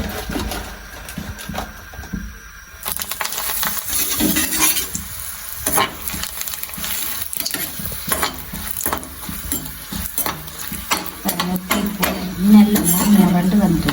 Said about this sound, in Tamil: நான் வீட்டில் செய்த மோர் மிளகாயை பொறிச்சு காட்டேன்